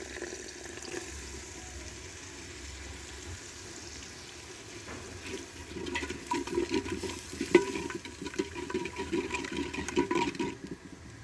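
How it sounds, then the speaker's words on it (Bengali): Spice paste for potato dum is sautéed with a splash of water in a clay pot, quiet and soft at first, then rougher scraping and bubbling stir strokes growing louder in the second half. "আর কষানোর জন্য মাঝে মাঝে একটু একটু জল ইউজ করছি যাতে মশলাটা পুড়ে না যায়"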